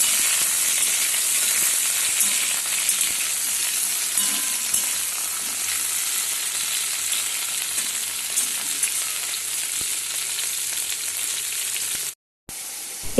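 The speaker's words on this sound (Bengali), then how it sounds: "ফুলকপি আর আলুটাকে আগে থেকে ভেজে নিচ্ছি" Cauliflower and potato pieces frying in oil in a pan, with a steady loud sizzle and hiss running almost unbroken, close up, then cutting out briefly near the end.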